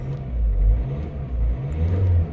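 A diesel car engine, started cold at -3°C, idles low, then revs up in a few short bursts, each swelling and falling back.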